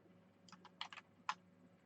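Several quick, faint clicks of computer keyboard keys pressed one after another, including a short cluster and a single sharper tap, heard close up over quiet background hum.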